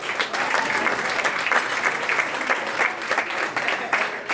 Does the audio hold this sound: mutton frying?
no